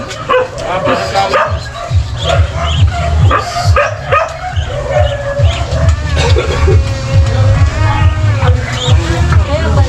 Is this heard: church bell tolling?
no